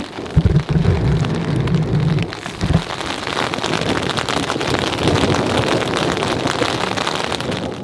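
Heavy rain and wind at an outdoor campsite, a dense continuous hiss of drops pattering on surfaces with a few louder thumps early on, loud and close throughout.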